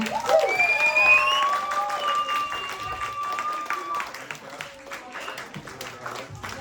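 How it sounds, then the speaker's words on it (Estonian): Applause for Janar at Saku Gymnasium's school Olympics pre-program, a dense burst of clapping mixed with crowd cheers and high shouting voices, loud at first and then easing a little as it carries on. "Nii et aitäh suure aplausi meid Janarile!"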